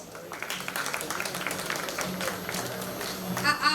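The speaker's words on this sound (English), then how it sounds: "A round of applause, guys." Audience applause at the Golden Cape Awards 2021 ceremony, a steady crowd clapping that runs throughout, with some voices mixed in underneath.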